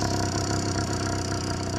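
A 100cc YD100 two-stroke motorized bicycle engine idles steadily, a close, continuous buzzing putter with an even mechanical clatter and no voices.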